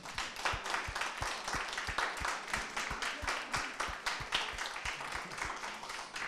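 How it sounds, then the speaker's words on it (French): An audience claps at a French engineering competition event, a steady patter of hand claps with clear individual slaps repeating throughout, moderately quiet and without talk. "je pense qu'on peut les applaudir"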